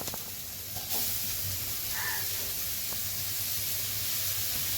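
Onion and mixed vegetables sauté in a pan for crispy vegetable patties, producing a continuous close hiss and sizzle that holds steady from start to finish.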